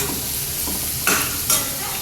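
Steady loud sizzling of okra frying in a pan, with a couple of scraping stirs cutting through the hiss.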